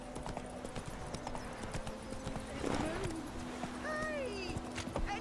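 The horse Roach in The Witcher 3 clip-clops at a brisk, regular gait close by, with a short whinny partway through and a steady low hum under the hoofbeats.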